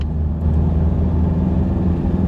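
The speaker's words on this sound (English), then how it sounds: "we've got 0 to 100 in a Hilux with a trailer. Give her all she's got." A Toyota Hilux towing a trailer pulls hard from a standstill toward 100, its engine a steady, loud low rumble that holds through the whole pull with no talking over it.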